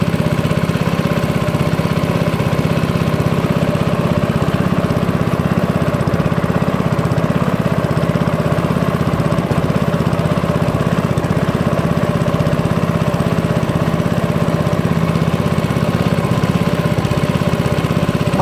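Motor boat engine on a rural river near a ferry landing where boats haul building materials, a steady droning putter running continuously and fairly close, with no voices.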